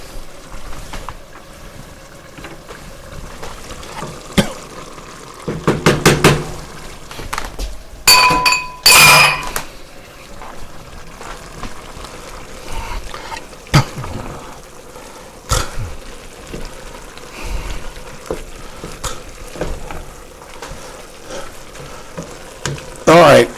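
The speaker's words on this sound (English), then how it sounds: "now let's put in our flour" Flour being stirred into a pot of beer chili on the stove, with a steady frying sizzle, scraping and stirring strokes, and a few sharp clinks of utensils against the pot, all close and with no talk.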